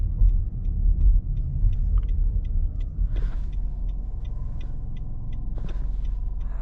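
A 2018 Nissan Rogue S with a CVT transmission drives along with a steady low road rumble and faint whirring, with a few soft clicks and brief higher tones above the cabin drone; no one speaks.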